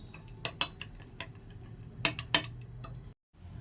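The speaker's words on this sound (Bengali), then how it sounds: "এটা এখন চামচ দিয়ে অনবরত নেড়ে চেড়ে মিক্স করে নেব" A spoon stirs pancake batter in a bowl, giving scattered sharp clinks and taps against the bowl's side in small clusters, with a short silent gap near the end.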